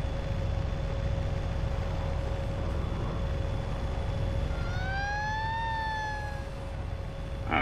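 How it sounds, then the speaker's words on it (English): A fire truck siren wails in American Truck Simulator, rising and falling in a single sweep late in the clip, heard faintly over a steady engine drone and constant tonal hum. "There was a fire truck with the siren on."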